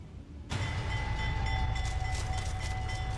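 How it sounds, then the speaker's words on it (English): A train rolls through the Laredo rail yard in Texas, its steady, loud rumble starting abruptly and continuing with metallic squeals and tonal whining over low clattering. "Agent Tom Lozano took us on a search of the Laredo train yard."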